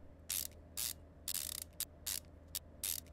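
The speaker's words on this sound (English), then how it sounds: "Get those 4 nuts tightened up on the rear axle" In the Car Mechanic 2015 video game, a ratchet tightens nuts on a rear axle: about seven sharp, bright bursts of clicking evenly spaced over a low steady hum.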